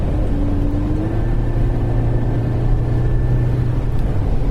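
Sports car engine droning steadily at motorway speed on a Spanish highway, a low sustained rumble with a faint rising tonal whine, constant and close.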